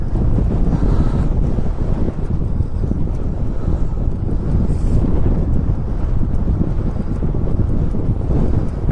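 A cyclist rides into a headwind that roars continuously and loudly across the microphone, a dense, buffeting rumble that stays constant throughout with no other clear sounds.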